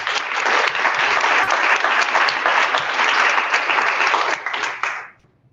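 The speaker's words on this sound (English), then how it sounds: "A round of applause to all of you." Audience applause fills a community giving circle's meeting, a loud, steady burst of many hands clapping that holds for about five seconds before fading quickly to silence.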